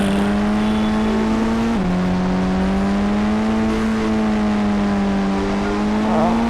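A car engine in GTA V drones steadily at a close, loud level, with one dip in pitch that sounds like a gear change before the revs climb again, continuous and alone.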